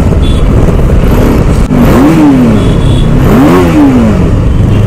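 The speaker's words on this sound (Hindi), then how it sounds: "गाइस हक्कू की विली चेक करो, पूरी लहर जा रही है गाड़ी।" Motorcycle engine revving hard during a wheelie, loud and close with rough wind buffeting, two rising and falling rev swells in the middle.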